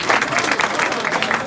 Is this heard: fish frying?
no